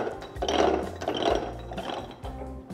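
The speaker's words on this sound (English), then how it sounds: "Just gonna put it in place here and lower that piston just a little bit." A sausage stuffer piston is lowered into a canister full of Chile Relleno sausage meat, giving off a series of close, loud ratcheting clicks in several bursts with short pauses between them.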